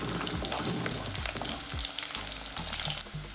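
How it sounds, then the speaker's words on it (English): Liver frying in oil with scallion, garlic and onion gives a steady, dense sizzle and crackle that stays loud throughout, broken by a few low bumps and stirs, with no voices. "I'll put in the liver into the oil"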